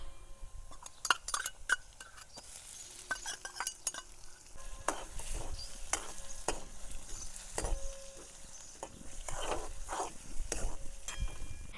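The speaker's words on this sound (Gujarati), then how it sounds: "આદુ લસણ ને મરચાં આપણે ખાંડી છે એ નાખી દઈશું." Crushed ginger, garlic and chillies fry in a pan with onion, a soft continuous sizzle under repeated scraping and stirring with a metal spoon and occasional clinks against the pan.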